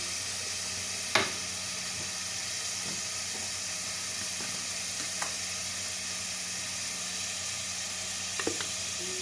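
Minced beef keema with ginger garlic paste sizzles steadily in a pan, producing a constant broad frying hiss broken by a few sharp clinks of a spoon stirring, with no voices.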